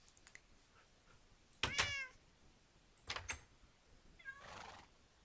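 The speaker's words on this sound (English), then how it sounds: "You're pushing my cats around." Minecraft cats meowing in a video game, several distinct synthetic meows, some close and fairly loud, separated by quiet gaps, with no talk.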